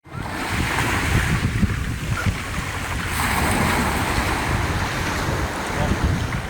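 Ocean waves surge and wash continuously against a shore with strong wind buffeting the microphone, a loud, broadband roar that swells slightly midway and never lets up.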